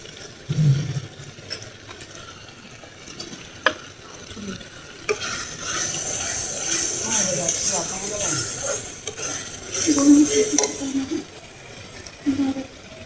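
Prawns cooking with spices in a pan while being stirred: a soft sizzle, scraping strokes and occasional knocks of the utensil against the metal, louder in bursts midway, with a brief murmur of voice near the start.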